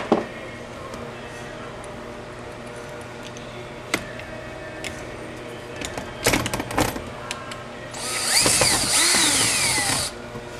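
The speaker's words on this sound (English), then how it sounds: "we conclude by installing our 4 screws" Power drill driving screws while mounting a device to a back plate, with scattered clicks and taps followed by a loud, steady buzzing run of the drill near the end, close by.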